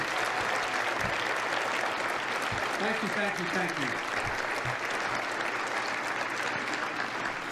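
An audience claps steadily through a dense, sustained wash of applause in a hall at a talk event, with brief voices murmuring beneath.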